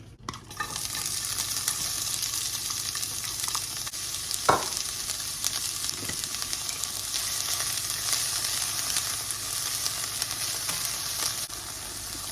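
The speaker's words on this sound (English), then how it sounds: "So we're gonna put some of this in here and saute everything." Vegetables sautéing in a pan for homemade fried rice give a steady, close broadband sizzle throughout, broken by a sharp clink of a utensil midway and a couple of faint scrapes.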